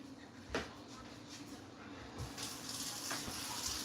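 Water is poured from a tap into a bowl of shaggy pretzel dough, a soft steady splashing and hissing stream running for a few seconds, fairly quiet and close.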